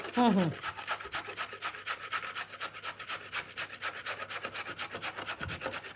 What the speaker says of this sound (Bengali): এর সঙ্গে আমরা একটু গাজরকে ঘষে নেব